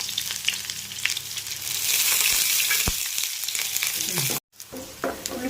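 Shallots sizzle in hot oil after mustard seeds for a traditional Kerala taro curry, a steady loud frying hiss with brief crackles, a short silent gap near the end, no voices.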